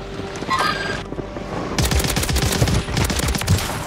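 Automatic gunfire in the Warzone Rebirth Island video game, with a short burst followed by long rapid fusillades of sharp shots, loud and close.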